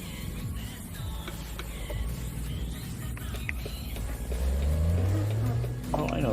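Truck engine in American Truck Simulator, a low steady rumble under background music, rising into a louder revving drone near the end as the truck accelerates.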